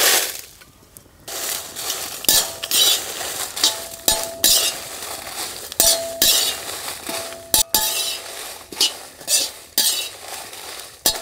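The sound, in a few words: dry red chillies frying and stirred in oil in a pan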